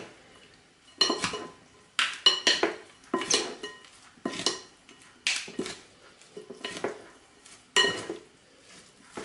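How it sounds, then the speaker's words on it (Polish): Repeated clinking and scraping of a utensil stirring a leek and raisin salad with mustard in a bowl, in uneven bursts roughly every half second, close and fairly loud, with no talking. "Dokładamy musztardę i należy surówkę dokładnie pomieszać."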